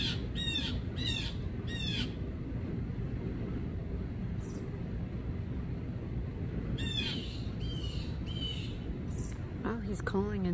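A bird near a garden feeder gives harsh, squawking calls in short repeated bursts, with an answering call later, set against a steady, noisy outdoor background.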